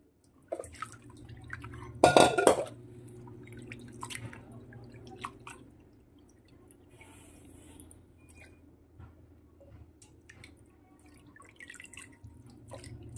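Raw chicken skin being rinsed and squeezed in water makes quiet splashing, dripping and squelching sounds, with one louder splash near the start.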